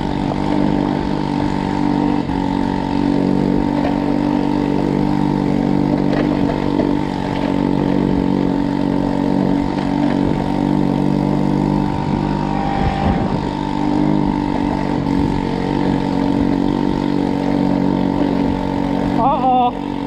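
A China Power 50/80 four-stroke scooter engine running steadily, a loud close buzzing drone with harmonic hum throughout, faint talk mixed in and a slight change in tone near the end.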